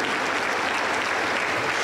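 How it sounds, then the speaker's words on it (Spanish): A congregation at a Pentecostal church in Junín, Peru claps together in a dense, steady roar of applause, close and uniform for a brief stretch with no voices standing out. "Aplauso para el Señor Jesús."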